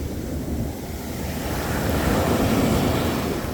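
Ocean waves wash onto the beach at Caspersen Beach, Florida, a loud, continuous rushing surf that swells toward the end, with wind buffeting the microphone.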